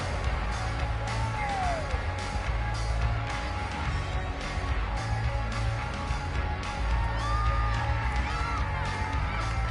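A football stadium crowd cheers and roars continuously, with whoops and yells rising from the dense sustained noise of a large audience.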